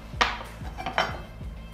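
Cheese cubes being mixed into gougère choux dough in a bowl, a few close knocks and scrapes of a utensil against the bowl in quick succession.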